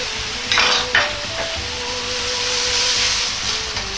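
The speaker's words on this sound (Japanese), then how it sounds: "水溶き片栗粉でチンゲン菜にスープをコーティングするようにして合わせていきます。" Bok choy being stirred and coated in a pan with chicken-stock soup thickened with potato starch, a steady close sizzle marked by a few clanks of utensil on the pan.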